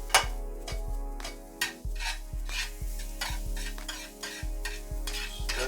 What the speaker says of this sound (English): Stir the garlic around.